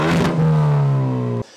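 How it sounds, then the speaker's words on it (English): A Hyundai i30N's loud engine revs sharply through its sports exhaust, holding a raspy drone before cutting off abruptly. "The very parpy sports exhaust."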